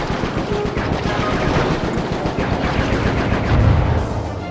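Rapid, sustained gunfire from Bentley in Sly 3: Honor Among Thieves, a dense continuous burst of shots lasting several seconds at steady loudness with a slight swell near the end, with no talking over it.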